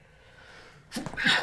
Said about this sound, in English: That's my garbage sneeze.